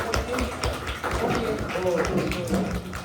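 A group claps together in a forensic medicine class on firearms, the claps coming as steady, fairly fast beats close by, with voices heard through the clapping.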